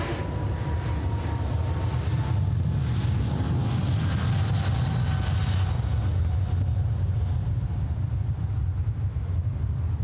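Airliner jet engines spooling up at Sydney Airport in the evening, a loud continuous roar with a rising whine tone, heard close and steady for the whole stretch without talk over it.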